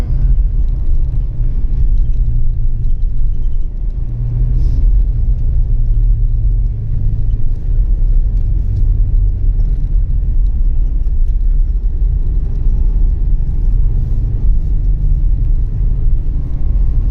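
A car drives and slides sideways through corners, heard as a loud continuous low rumble with steady engine drone and slight swells in revs throughout, no voices.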